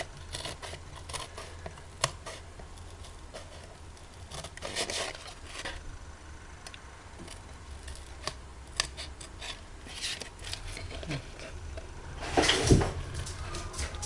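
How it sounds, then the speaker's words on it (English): Quiet room with occasional soft rustles and crisp snipping, then a louder burst of scissors cutting paper near the end. "I prefer the scissors"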